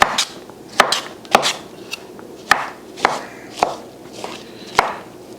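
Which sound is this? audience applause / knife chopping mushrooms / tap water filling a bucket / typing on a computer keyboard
knife chopping mushrooms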